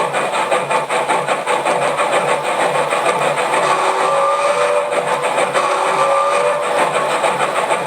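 An LGB model steam locomotive's chuff sound: a steady, rapid rhythmic chuffing runs continuously with a mechanical hum and faint whistling tones, moderately loud.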